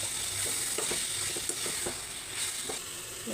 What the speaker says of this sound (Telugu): ముందుగా మ్యాగ్నేట్ చేసిన చికెన్ని ఇప్పుడు ఇందులో వేసుకొని కలుపుకోవాలి